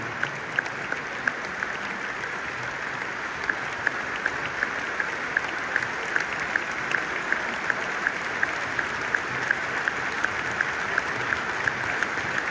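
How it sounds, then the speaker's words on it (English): Stadium crowd at a Chelsea versus Liverpool football match at Stamford Bridge giving a sustained tribute applause, a steady distant wash of clapping with faint periodic whistle-like tones above it. "We will now honour their lives and their legacies with a moment of applause"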